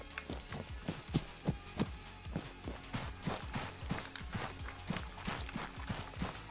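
Rapid running footsteps of a player character in ArmA 3 Exile, a steady even rhythm of thudding steps at moderate distance, continuing throughout with no talk over them.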